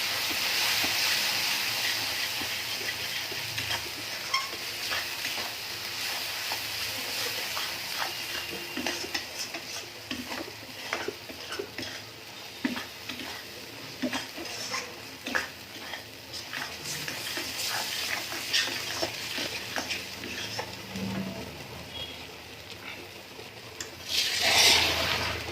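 Potatoes and spices for a Bengali potato dum, made without garam masala, being stirred and sautéed in a pan, a steady scraping and sizzling texture running throughout with scattered clicks and taps, moderately close and without speech.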